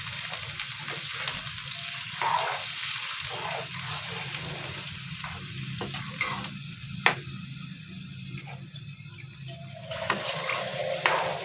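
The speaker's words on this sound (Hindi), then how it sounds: "तो हम इसके अंदर ये पानी डाल देंगे।" Water poured into a pot of rice for white pulao yakhni, giving a steady sizzling, bubbling wash throughout with a few brief clinks, alone without talk.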